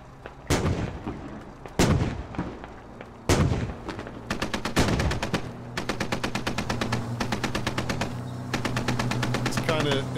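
Gunfire in Squad: several loud, close single shots at the start, then rapid sustained bursts of automatic fire crackling in quick rhythm, with a voice talking faintly underneath.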